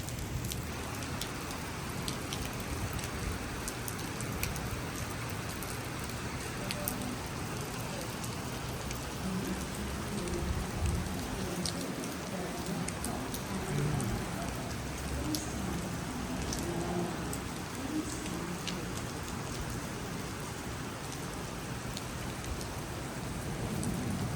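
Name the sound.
heavy rain falling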